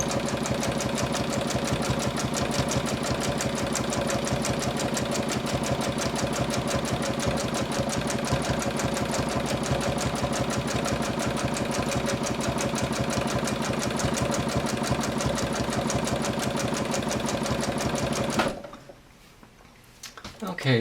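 A home sewing machine runs steadily at mid speed during free-motion quilting stippling, a fast, even needle rhythm humming up close for most of the time before stopping abruptly near the end.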